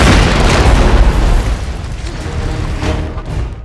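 A loud, deep explosion from an action blockbuster film, a heavy booming blast that rolls into a long rumbling decay with debris-like crackle, fading toward the end.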